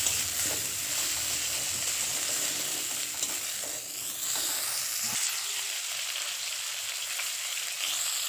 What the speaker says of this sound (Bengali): এবার ওই তেলের মধ্যে কেটে রাখা ফুলকপিগুলো দিয়ে হালকা লাল করে ভেজে নেবো